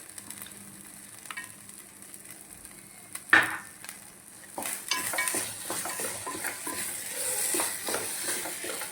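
Wheat rava kesari being stirred in a pan as raisins and fried cashews go in, soft scraping and gentle sizzling with a sharp clink near the middle, then louder rhythmic stirring strokes; no talk.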